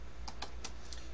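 Four or five light, evenly spaced keystrokes tap quietly on a computer keyboard in an otherwise quiet room.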